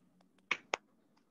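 Two sharp, brief claps sound close to the microphone, a quarter second apart, from a participant in an online workshop, with faint softer taps around them in an otherwise quiet room.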